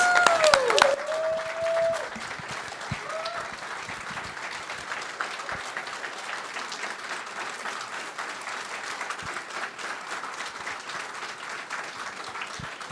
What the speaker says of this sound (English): Let's go ahead and give our candidates another round of applause.